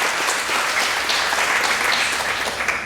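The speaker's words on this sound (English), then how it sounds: "Give the students a round of applause if you would for all their hard work" Sustained audience applause for students at a school moving-up ceremony, a dense, even wash of clapping from many hands that holds steady throughout with no break.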